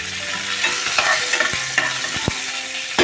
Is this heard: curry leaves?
yes